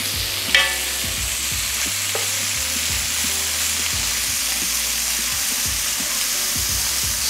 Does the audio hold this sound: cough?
no